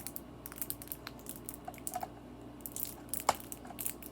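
Plastic fidget toys click in quick, irregular bursts of small snaps and crunchy taps, close and fairly faint, with one sharper click near the end and no talking.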